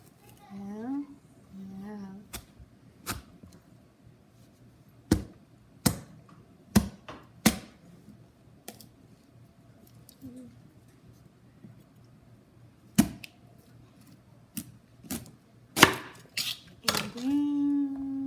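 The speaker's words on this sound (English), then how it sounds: "we cut the squash in half after you wash it, of course." A knife cutting through a spaghetti squash on a kitchen surface, a series of sharp separate chops and knocks scattered across the stretch, with a person talking intermittently between the cuts.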